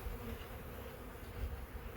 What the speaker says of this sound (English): this package that's full of bees